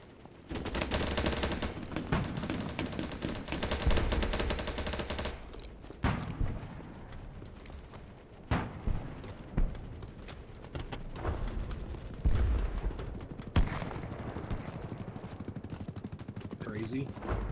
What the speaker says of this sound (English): Sniper's still shooting at me over here.